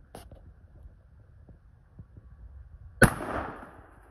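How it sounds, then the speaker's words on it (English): A single gunshot fired at cheap eBay body armor outdoors, one sharp loud crack followed by a lingering rumbling decay, with a few faint clicks and quiet background beforehand. "Red to fire. Against eBay body armor."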